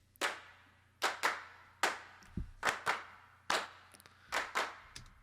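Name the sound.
rhythmic hand clap pattern in a music mix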